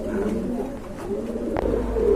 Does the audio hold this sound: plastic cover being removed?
no